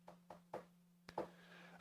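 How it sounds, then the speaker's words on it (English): Knuckles knocking on a table: a quick series of soft, hollow raps, three evenly spaced then two more after a pause, faint and close against a steady low electrical hum. "Was that loud, me knocking on the table?"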